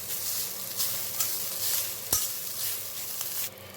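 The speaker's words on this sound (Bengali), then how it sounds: "অল্প পরিমাণে নারকেলই আমি এখানে ভেজে নিচ্ছি।" Grated coconut fries in hot oil in a kadai, giving a steady soft sizzle with occasional scraping stirs and one sharp knock of the spatula against the pan.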